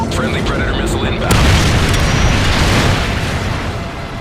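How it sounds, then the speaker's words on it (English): A Predator missile blast in Call of Duty: Modern Warfare 3, a loud deep boom that rolls into a long rumbling roar and slowly fades, with game radio chatter and gunfire just before the hit. "Friendly Predator missile inbound."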